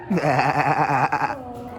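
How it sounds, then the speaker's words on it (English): A baby goat at a farm park gives one long, quavering bleat, close and loud, with no other sounds around it. "Baby goat."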